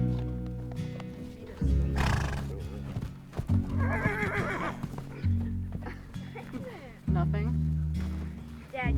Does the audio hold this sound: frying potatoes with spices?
no